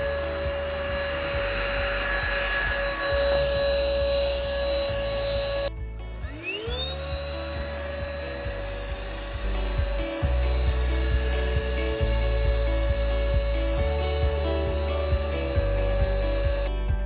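An Ingco cordless vacuum cleaner whines steadily, switching to a new pitch and spinning up partway through, while wood shavings rattle and rub against the nozzle in uneven bursts close by.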